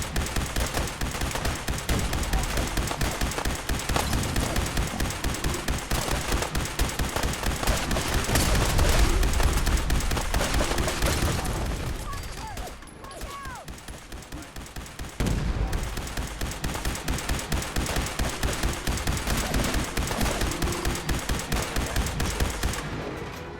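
Sustained gunfire from a Fallout 4 Far Harbor battle against creatures emerging from fog: dense rapid volleys of shots and bursts, loud and continuous, easing briefly midway before the firing resumes at full intensity.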